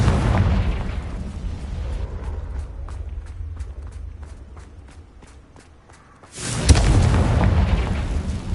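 A Confringo blasting curse in Hogwarts Legacy erupts as a loud, sudden blast that lingers as heavy rumble, following a run of quick, even footstep-like ticks.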